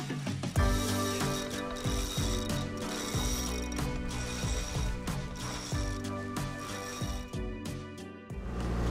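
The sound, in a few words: sailboat winch ratcheting while hoisting a sail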